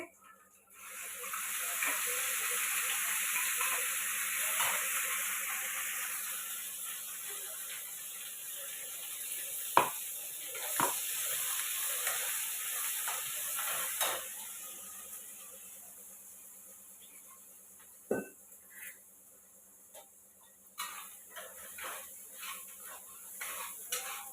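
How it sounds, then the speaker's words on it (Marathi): Cumin, curry leaves and ground masala paste sizzle in hot oil for an egg curry. A strong steady hiss fills the first several seconds, then gradually softens, with occasional clinks of a utensil. "जिरे टाकते कढीपत्ता टाकते थोडा आता वाटण टाकून घेते"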